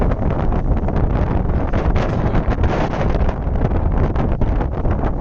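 Strong wind at the harbour in Cherbourg buffets the microphone in a continuous loud roar with gusty fluctuations, nothing else clearly audible.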